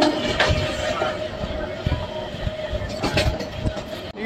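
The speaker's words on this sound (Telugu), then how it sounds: "Tirupati Visakhapatnam double decker express." Tirupati-Visakhapatnam double decker express train passing at a station, a steady rumble with rhythmic wheel clatter close by, filling the whole clip.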